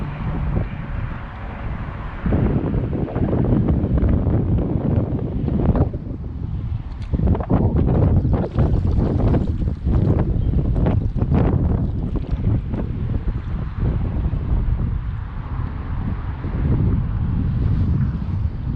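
Strong wind gusting across open water during a fishing outing, a loud continuous roar and buffeting against the microphone with surging gusts throughout.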